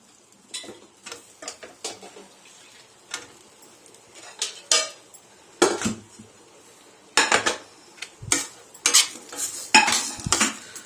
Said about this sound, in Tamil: போட்டு நல்லா எல்லாத்தையும் ஒன்னா மிக்ஸ் பண்றோம்